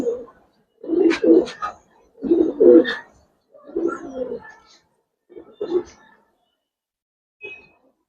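Giribaz pigeons cooing close by in short bursts, about five separate coos spaced across the span with pauses between, the last one faint.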